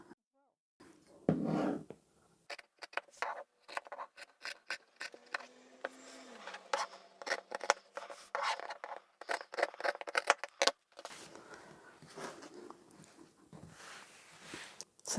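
Scissors snip out fabric pieces for a beginner tote bag in quick irregular bursts of crisp cuts and rustles. The sound is close but soft, and there are brief pauses between the cuts.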